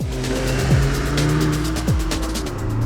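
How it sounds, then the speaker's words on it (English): A 2022 Cupra Formentor accelerates hard out of corners at full throttle. The engine note is loud and close and rises steadily, dropping sharply at each gear change, with a faint edge of tyre noise. "It's hugely satisfying to blast out of corners at full noise."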